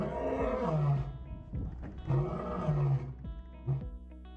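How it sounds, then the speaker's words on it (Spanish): A lion roars at close range, delivering a series of deep, loud, rumbling bellows separated by brief pauses, with grunting breaths between calls. "escuchar el rugido de un león de cerca"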